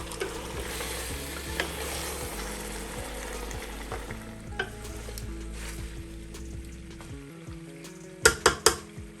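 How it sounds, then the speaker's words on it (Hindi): Beef trotters sizzle and fry steadily in a hot pot, with scraping stirs and a few sharp metallic clanks near the end. "पाए भी अच्छी तरह भून लेंगे 10 मिनट तक।"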